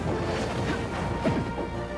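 In a Super Smash Bros. Ultimate match between Ridley and Shulk, a forward smash attack lands with a crunchy smashing impact. It sits amid a dense, steady wash of game noise and crowd sound.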